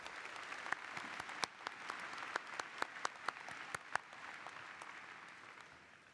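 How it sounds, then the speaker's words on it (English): A graduation ceremony audience at KSU gives a round of applause after a student speaker; a soft, distant wash of clapping with a few louder nearby claps standing out, gradually tapering off. "Let's give Angie one more round of applause, please."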